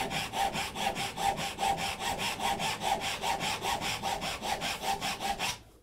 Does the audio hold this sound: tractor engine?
no